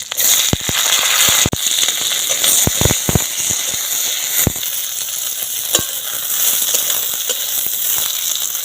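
Chopped flat beans hit hot oil in a pan with black cumin and green chilli, giving a steady bright sizzle punctuated by sharp clicks and spatters from stirring, with no voices heard.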